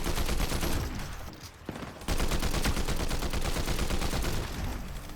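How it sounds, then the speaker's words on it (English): Non-stop gunfire in a Fortnite match: rapid automatic shots crackle in dense, overlapping volleys, loud and continuous, with only a brief lull before the shooting resumes at full intensity. "There, you notice how much they're shooting? They're pretty much non-stop shooting."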